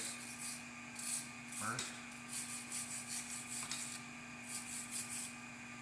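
Wire brush scrubbing brown flux-core weld coating off the kickstand of a 1978 Free Spirit moped, a Puch derivative, in repeated raspy strokes close up, with a brief voice partway through.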